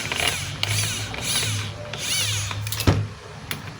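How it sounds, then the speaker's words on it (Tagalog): Ratcheting, grinding mechanical clicks and rubs from a DeWalt hammer drill as its screw is tightened, a few louder bursts with a sharp clack near the end, close and alone. "higpitan na natin yung screw"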